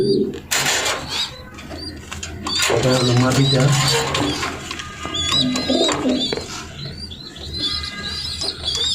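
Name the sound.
racing pigeons cooing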